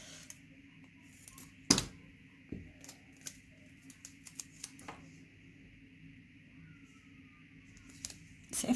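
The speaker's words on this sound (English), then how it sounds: "I'm going to need to cut it, I think, actually. Where are my scissors?" Scissors cutting paper for a planner spread, heard as a run of small crisp snips and clicks close by in a quiet room, with a louder knock near the start and no talk.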